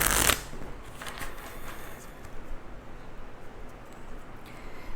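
A deck of oracle cards is handled and shuffled, quick riffling flutters and soft papery slides close by, with a sharp burst at the start, with no talk.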